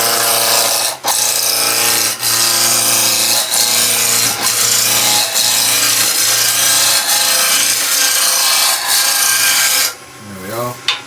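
A skew chisel roughs down a spinning wood cylinder on a lathe for a snowman Christmas decoration, giving a loud, continuous shaving hiss over the motor's hum with brief catches, easing off near the end as the tool lifts.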